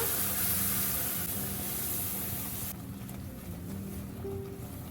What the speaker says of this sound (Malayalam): ഇനി ഇതിനുള്ളിലേക്ക് തിളപ്പിച്ച വെള്ളം, നല്ല ചൂടുണ്ട് കേട്ടോ കെറ്റിൽ, ഇപ്പം തിളപ്പിച്ചെടുക്കുക, ഒഴിക്കുക